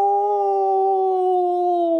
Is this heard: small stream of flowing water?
no